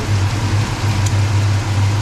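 A steady mechanical whir with a low hum drones continuously beneath broadband rushing noise, like cooling fans running under a car hood.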